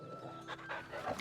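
A dog pants in Final Fantasy XVI, a few quick breathy pulses close up with a faint whine over a steady background hum.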